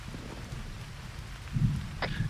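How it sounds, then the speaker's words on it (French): Steady rain falls in the military game ArmA 3, a dense, moderately quiet wash of noise with a couple of brief low thumps near the end. "j'en ai marre de la pluie, ça casse les oreilles"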